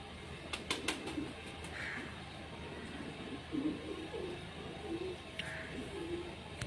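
Pigeons coo softly in short, low, rounded phrases repeated a few times, fairly faint against a steady background hum, with a few sharp knocks and possible wing flutters.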